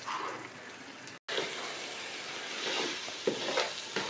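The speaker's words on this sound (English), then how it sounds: "this egusi has been frying for a few minutes" Ground egusi fries in a pot with a soft, continuous sizzle and crackle, broken by a short silent gap and a few small stirring bumps.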